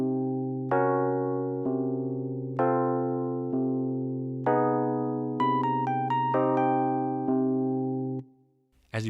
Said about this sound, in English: which includes a few piano melodies over these chords